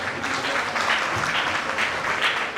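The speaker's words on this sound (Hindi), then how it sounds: "जोरदार तालियां" Loud, steady applause from a crowd, dense clapping filling the whole stretch without a break.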